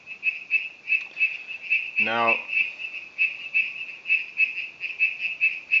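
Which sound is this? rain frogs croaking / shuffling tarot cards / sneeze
rain frogs croaking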